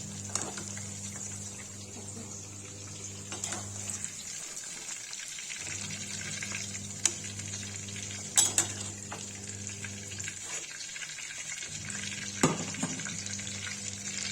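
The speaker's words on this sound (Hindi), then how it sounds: "देखिए लौकी फ्राई होगी, इसको निकाल देंगे।" Bottle gourd pieces fry in hot oil with a continuous close sizzle and bubbling, broken by occasional sharp clinks of a utensil against the pan.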